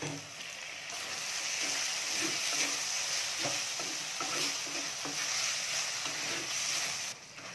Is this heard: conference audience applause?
no